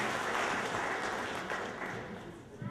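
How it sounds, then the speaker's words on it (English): A church congregation claps hands during a service, a dense, steady wash of applause that fills the space and fades slightly toward the end. "Clap hands for those of you that are here."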